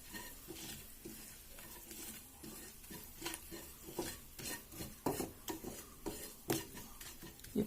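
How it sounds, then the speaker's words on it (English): Cumin powder fries in a pan, giving a soft, steady sizzle under frequent scraping and clinking as a utensil stirs it. The sound is quiet and close, with no talking. "I'm going to fry this for a minute"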